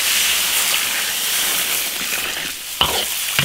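Water hits a hot iron wok of stir-fried free-range chicken, giving a loud continuous hiss and sizzle that eases slightly, with two sharp clanks of a utensil near the end.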